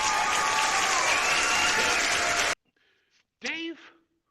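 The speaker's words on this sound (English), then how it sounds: "Everybody, give a big round of applause to the big guy here." Loud, dense audience applause at a live horror show fills the first two and a half seconds, then cuts off abruptly, followed by a brief near silence and a short burst of speech.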